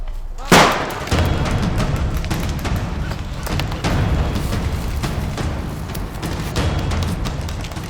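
Gunfire and grenade blasts during Ukrainian civil defence training: one sharp loud blast early, followed by a dense spatter of repeated shots and bangs at varying distances, with shouting voices mixed in.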